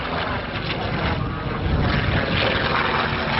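A P-47 Thunderbolt fighter plane in the markings of the 78th Fighter Group flies at the 1986 West Malling air show in England, a steady loud rushing engine roar, heard fairly near.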